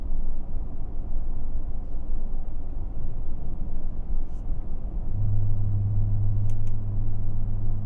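A Ford F150 Raptor R with its exhaust set to quiet mode gives a steady, muffled low rumble that is joined near the end by a deeper sustained drone.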